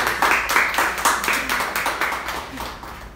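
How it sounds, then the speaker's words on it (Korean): Applause at a Korean youth forum on sustainability and local culture as presenters are welcomed, a room of hands clapping in rhythmic bursts that slowly taper off. "큰 박수 부탁드립니다."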